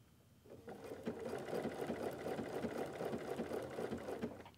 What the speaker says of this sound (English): I'm going to pivot or around the corner, and then I continue to sew